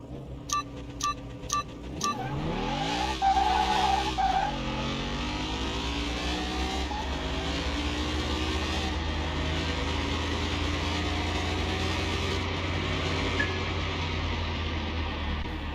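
Race car engines in Car Mechanic Simulator 21, an all-wheel-drive car lined up against its opponent: a few sharp countdown beeps, then engines rev up sharply and settle into a loud, sustained drone that runs steadily through the rest of the clip.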